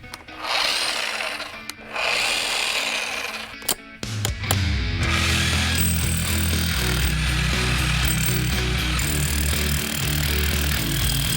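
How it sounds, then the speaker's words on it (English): An SDS Max hammer drill bit bores into concrete in a garage with a loud, harsh, continuous rattling hammer. After a couple of brief stops it settles into a steady, heavy pounding roar. "This is drilling right in there."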